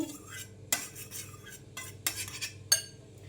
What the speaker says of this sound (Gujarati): સૌથી પહેલાં આપણે ટામેટાં એડ કરી દઈશું, ત્યારબાદ ડુંગળી એડ કરી દઈશું, અને ત્યારબાદ આપણે કાકડી પણ એડ કરી દઈશું।